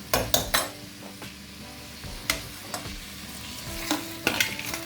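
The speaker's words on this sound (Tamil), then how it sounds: "உப்பு போட்டதுக்கப்புறம் ஒரு 2 நிமிஷம் நல்லா வணக்கலாம்" Tomatoes sprinkled with salt sizzle and fry in a pan while a spoon stirs and scrapes them in uneven strokes, close up and fairly loud, with no talking.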